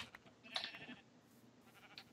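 A fairly faint, brief bleat from a sheep in Minecraft, rising once and fading, with soft game ambience around it.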